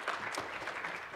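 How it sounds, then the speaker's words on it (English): A lecture hall audience at a women-in-STEM speaker event breaks into soft, continuous applause, faint and somewhat distant, with steady clapping throughout. "that deserves an applause right there"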